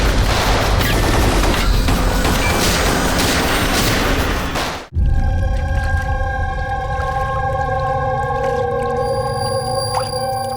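A burst of gunfire rips through a crime drama shootout: a dense, loud rattle of shots that stops abruptly, followed by a steady humming drone.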